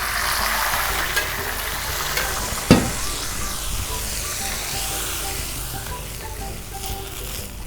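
Milk being poured into a hot pan of browned ingredients while making sheer khurma, with a steady close sizzle and a brief louder splash partway through, no talking.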